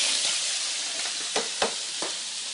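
Hot oil sizzles and fries steadily in a pan, a continuous bright hiss with a few sharper pops and spits breaking through, close and fairly loud with no talking.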